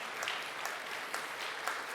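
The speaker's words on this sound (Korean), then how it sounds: "박수해 주시죠." An audience applauds at a chapel service for a seminary founding anniversary, a dense, steady wash of clapping from a full room that runs on evenly throughout.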